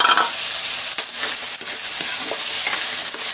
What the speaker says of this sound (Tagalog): bago natin igisa yung ating bawang sibuyas